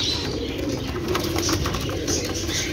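Kasuri breeder pigeons in a loft, soft low cooing and rustling under a constant hissy background, close and steady.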